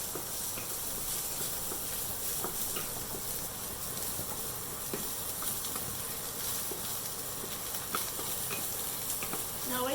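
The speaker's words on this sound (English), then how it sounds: "roast it well until it turns like light brown." Spices for vangi bath powder roast in a pan with a pinch of hing, giving a steady, soft hiss and sizzle with faint scraping from stirring throughout.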